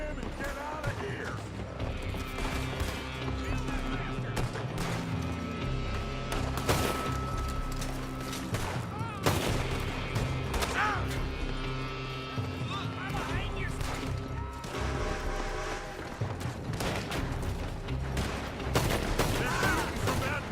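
Rapid gunfire rings out in Red Dead Redemption 2, repeated sharp shots and bursts throughout a long firefight over a background of game music and ambience, with voices occasionally heard.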